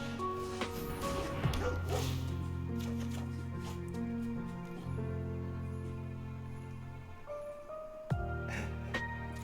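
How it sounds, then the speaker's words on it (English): Dog barks and yips from the Spirited Companion card in the Magic: The Gathering video game, short playful bow-wows over a sustained musical backdrop, with a fresh burst near the end. "He's like, I thought I heard a bark."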